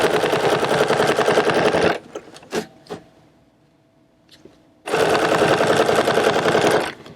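Sewing machine stitching a quilt: a fast, loud mechanical rattle for two seconds, a pause with a few clicks and knocks as the fabric is adjusted, then another steady burst of stitching.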